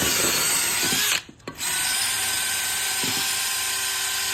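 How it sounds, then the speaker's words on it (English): A wire wheel buffs a 1972 Dodge Charger intake manifold with a loud, continuous high-pitched whirring grind that briefly drops out and then resumes at full strength. "Still buffing on this with my wire wheel."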